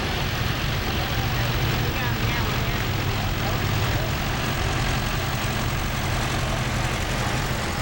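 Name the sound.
4-cylinder tractor engine running at a show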